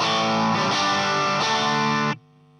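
Electric guitar played through a vintage Dallas Rangemaster treble booster into a BluGuitar Amp 1 on its vintage channel, with loud, distorted, plexi-style rock chords ringing for two seconds before stopping abruptly.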